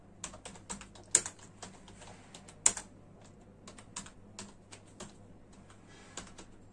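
Someone types on a computer keyboard in a quiet room, producing a run of soft, irregular key clicks with a couple of sharper taps.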